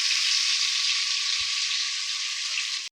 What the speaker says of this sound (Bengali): ভালো করে একটু লাল লাল করে একটু ভেজে নিচ্ছি।